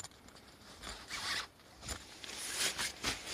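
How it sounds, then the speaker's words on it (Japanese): A zipper on a camping tent's ventilation hole is pulled open or closed in several quick, close rasping strokes against quiet surroundings. "こっちは通気の穴ですね。 チャックで開け閉めできます。"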